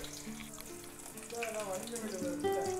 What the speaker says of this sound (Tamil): இந்த கடாயில் வந்து தேங்காய் எண்ணெய், வெட்டி வச்சுருக்கிற சின்ன வெங்காயம்